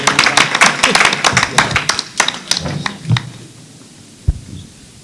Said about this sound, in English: It's all right to clap now.